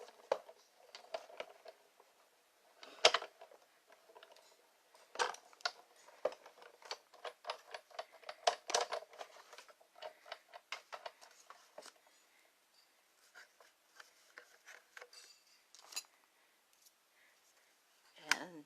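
Paper being cranked through an embossing machine, faint close crackling and ticking with scattered clicks and soft rustles, irregular and quiet.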